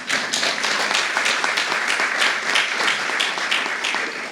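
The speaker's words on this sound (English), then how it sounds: "That you can clap for." An audience claps in a dense, steady burst of applause at a county budget address, sustained for several seconds without talk.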